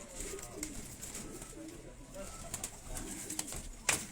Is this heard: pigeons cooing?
yes